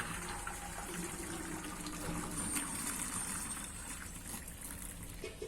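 Cold water pours steadily from a tap into a pot of rice for jeera rice, giving a continuous soft rushing trickle that stays even and fairly faint throughout, without speech.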